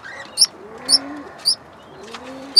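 Pigeons or doves coo softly while small birds chirp in short, bright, regularly spaced bursts, close by against a quiet background.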